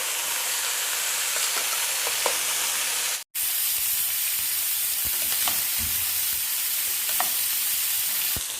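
Rice roasting in a pot for chicken kabsa gives a steady, close sizzle and frying hiss, with occasional scrapes of stirring and a brief cut partway through.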